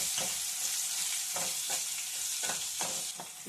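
Crushed garlic frying in hot oil as the tempering for dried mango pickle: a steady, close, bright sizzle with several soft stirring knocks from a spoon in the pan, and no voices.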